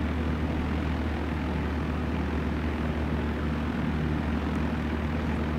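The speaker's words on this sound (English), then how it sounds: "Oh, this plane is really nice to fly." An airplane engine drones in the Flight Sim World game, a loud, steady, low hum with no breaks throughout and no talk.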